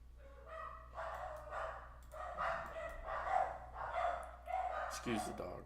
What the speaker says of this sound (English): the dogs are going off in the background